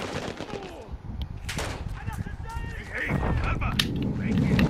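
Call of Duty gunfire in the Al Mazrah map, repeated bursts and single shots at varying distances amid a busy battle mix, with players' voices talking over it.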